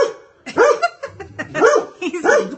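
Edison, a big dog, barks in a few loud, close bursts, each a cluster of deep, gruff woofs with short pauses between.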